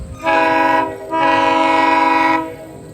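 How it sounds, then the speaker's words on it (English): GO Transit train horn, a Nathan Airchime K5CA, sounds two loud, close, chord-like blasts, the first short and the second held for about a second, with no talk. "That is Go Transit's K5CA horn."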